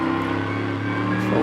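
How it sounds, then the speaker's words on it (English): On-board engine roar from a Bentley GT race car during the Blancpain Endurance Series 1000 km race at the Nürburgring, a loud sustained mid-pitched drone that climbs slightly as the car accelerates. "as you run on board with Guy Smith in the Bentley"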